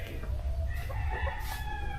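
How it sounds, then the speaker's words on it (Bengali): A rooster crows in the distance in a quiet Bangladeshi village at Lakshmipur, faint and drawn-out over a low, steady outdoor rumble, with no talking. "কত দূরে মুরগি ডাকে"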